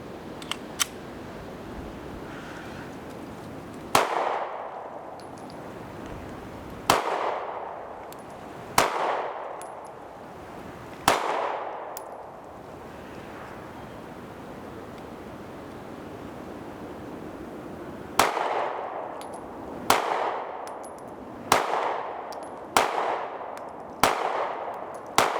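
A Smith & Wesson Equalizer pistol is fired outdoors at a range. A few spaced single shots come first, then a faster string of five near shots, each sharp crack trailing into a short decaying echo, with no talking.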